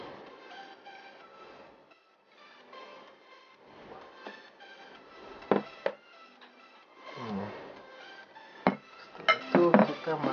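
Plates and dishes clink and clatter during a honey test, with scattered sharp ceramic knocks and scraping growing louder toward the end, close up over a faint background.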